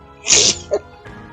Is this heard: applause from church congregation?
no